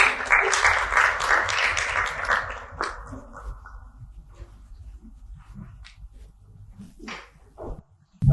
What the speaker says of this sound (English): Your applause, ladies and gentlemen.